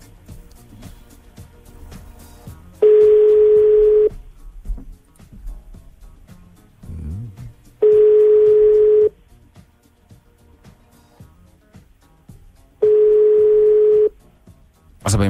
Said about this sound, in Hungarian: kaptunk egy számot, hogy hívjuk föl a Zsanettet